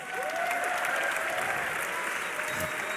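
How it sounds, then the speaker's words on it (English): A large arena crowd at a League of Legends esports semi-final applauds and cheers in a loud, continuous wash, with an announcer's voice and tonal sweeps faintly underneath. "Give yourselves a round of applause."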